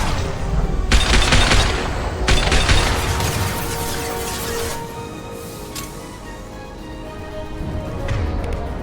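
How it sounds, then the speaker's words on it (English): Impact shot gunfire rings out in Mass Effect 2 Legendary Edition, several loud, sharp bursts of shooting and booming blasts over a dense battle din, easing to a lower rumble before flaring again. "Firing an impact shot!"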